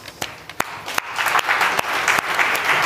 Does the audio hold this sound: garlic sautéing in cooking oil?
no